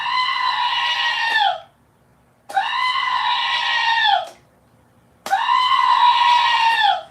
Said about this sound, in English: They will be screaming like little goats.